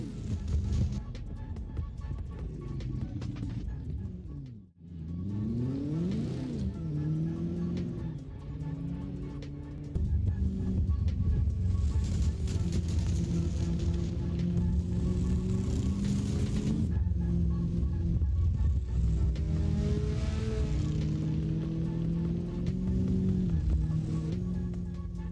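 Drift cars roll back along a competition track toward the start line, their engines rising and falling in drawn-out revs at middling distance, a continuous mechanical drone with no voices.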